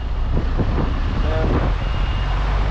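A lorry with a trailer backs into a yard, its reversing alarm beeping in a short rhythmic run over a heavy, constant diesel engine rumble close by.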